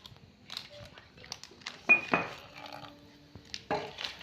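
Eggless, flour-free cake batter with Eno is stirred in a bowl, giving soft scraping and a few clinks of a spoon against the bowl, while people talk nearby.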